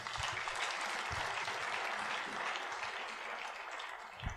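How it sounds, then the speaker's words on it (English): Church congregation clapping at a Christian service praising Jesus, a dense, steady burst of applause filling the room for about four seconds with no talk over it. "Clap for Jesus Christ."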